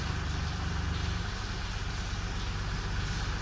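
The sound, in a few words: VW Polo engine running, tone changing during turbo relearn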